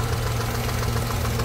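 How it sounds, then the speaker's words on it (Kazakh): An Opel car engine idles with the hood open, a steady close mechanical hum with a faint ticking knock running through the whole short stretch, no talk. "Мінекейіңіз, мотор деген"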